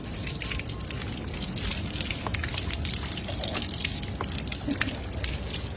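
Water pours continuously while a cat is bathed, a steady close gushing wash that runs throughout with no voices over it.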